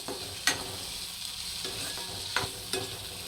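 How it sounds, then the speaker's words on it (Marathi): Onion and tomato fry quietly in a pan over medium gas, a soft continuous sizzle broken by a few sharp scrapes and clinks of a stirring spoon, close by. "हे आता कांदा टोमॅटो नरम होईपर्यंत चांगलं भाजून घेणार आहे मी मिडियम गॅसवर"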